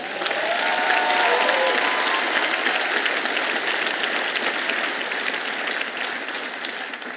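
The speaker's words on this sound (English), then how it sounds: "let's give a big round of applause to ourselves," Graduation commencement audience applauding the class of 2022, a dense, steady wash of many hands clapping that stays loud throughout and eases slightly toward the end.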